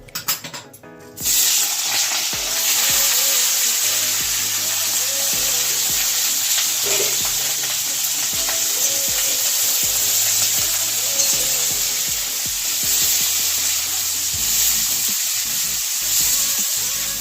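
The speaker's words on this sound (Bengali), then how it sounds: "ভাজা হচ্ছে, আর একটু লাল করে ভেজে নেব" Cauliflower, carrot, potato, beans and peas fry in a hot pan for a vegetable dal, giving a loud, steady sizzle that starts abruptly and runs on without pause, with no voices.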